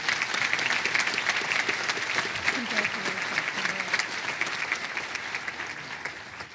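Warm applause from the audience at a university honors and awards ceremony, a continuous wash of clapping through a hall that gradually eases toward the end.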